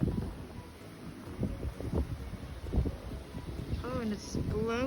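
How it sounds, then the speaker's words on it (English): Blizzard wind blowing snow in Minnesota, gusty buffeting rumble against the microphone rising and falling throughout, with a voice speaking near the end. "Oh, and it's blowing. It's like so windy."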